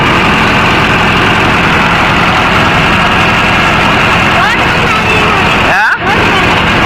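A Mahindra 605 Novo tractor runs with a rotavator in farmland, its engine giving a steady, loud, continuous drone with a brief disturbance near the end.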